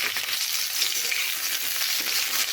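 Pieces of pointed gourd fry in plenty of hot oil, giving a dense, continuous hiss of sizzling at close range with no pauses.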